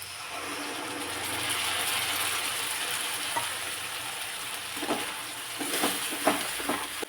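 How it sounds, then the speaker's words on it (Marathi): Chopped onion sautéing in a pan, a soft close sizzle with scraping and clicking stirring strokes growing busier toward the end. "कांदा छान असा लालसर कलर होईपर्यंत परतून घेतला"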